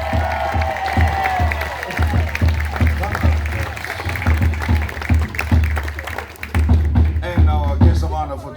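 An audience at the Polynesian Cultural Center in Hawaii claps and cheers, steady crowd applause sustained throughout with voices and calls mixed in over it.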